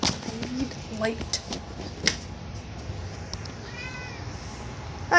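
A pet cat gives a few short meows at moderate distance in a home kitchen, mixed in among background household noise and people talking.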